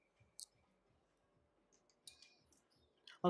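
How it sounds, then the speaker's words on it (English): Faint, irregular light clicks of a necklace knocking against a desk, scattered sparsely through quiet background with a louder clatter at the very end. "can hear the clicking in the background. My necklace keeps getting caught on the desk"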